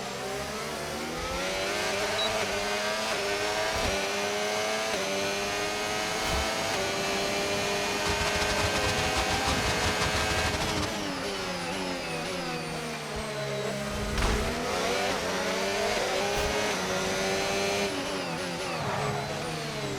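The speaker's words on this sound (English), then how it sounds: "Oh, who brought all these cars out?" Formula 1 race cars in the F1 25 video game at Baku, Azerbaijan, whining high-revving engines shifting pitch up and down continuously with several cars close together, loud and without talk.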